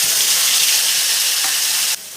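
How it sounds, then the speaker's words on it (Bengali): Spice paste hits hot oil already holding whole cumin and whole garam masala, giving a loud, close, continuous sizzle that drops abruptly in intensity near the end. "এবারে আমি পেস্ট করা মশলাগুলোকে দিয়ে দেব।"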